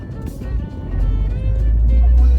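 A Daihatsu Hijet Cargo deck van drives along with a steady, low engine rumble and road hum from inside the cabin, while someone talks over it.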